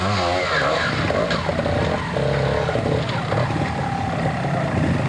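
A trials motorcycle at the 1986 FIM Observed Trials World Championship in Ioco, British Columbia, churning through deep mud, its engine droning and revving continuously and loudly with throttle surges under a roar of outdoor noise.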